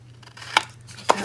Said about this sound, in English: I'm just trimming my corners as usual.